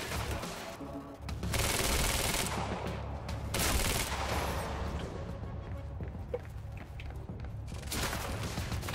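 Dense bursts of gunfire from a Quantum Break shootout, loud rapid shots and automatic fire surging in waves across the whole stretch, with little speech.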